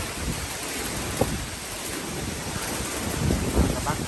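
Strong wind buffeting an outdoor orchid garden under netting, a loud, steady roar with gusty swells and mic-rumble, with a few faint bumps and no clear talking.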